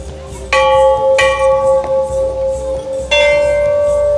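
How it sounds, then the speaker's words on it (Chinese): A temple bell in Pokhara, Nepal struck three times at uneven intervals, each strike ringing out with a bright metallic tone that lingers, over a low murmur of background noise. "像那边就有人在敲钟"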